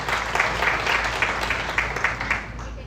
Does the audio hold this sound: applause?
yes